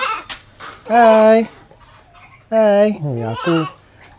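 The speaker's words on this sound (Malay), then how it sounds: "Aku first time pegang kambing ni." A goat bleats loudly up close in several wavering cries, with short gaps between them and light background noise.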